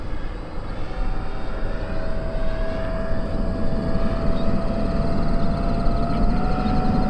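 Large RC Bombardier Global 7500 model jet in flight, a continuous loud roaring whine of its engines with a steady tone, sustained throughout.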